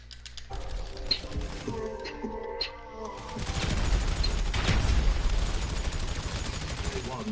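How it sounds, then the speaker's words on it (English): Rapid bursts of gunfire in a video game fill the second half, dense and loud, after a quieter stretch of mechanical clicks, with a voice talking over the shooting. "everybody's just shooting at me, yo"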